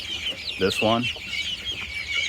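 Cinnamon Queen chickens give a few short, close clucks over a steady bed of high chick peeping and chirping.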